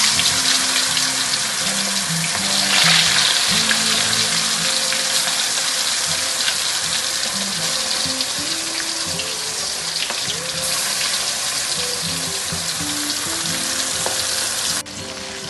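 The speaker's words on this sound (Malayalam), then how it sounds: "എണ്ണ നല്ലോണം കായിട്ട് അങ്ങനെ നമുക്ക് ചിക്കൻ പൊരിക്കാൻ വേണ്ടിയിട്ട് ഇടാം" Chicken pieces fry in hot oil in a busy biryani kitchen, a loud, constant close-up sizzle and crackle that runs unbroken for the whole stretch with no voices.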